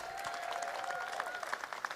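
Audience applause at an apartment building ribbon cutting, a steady patter of many clapping hands heard moderately far off throughout.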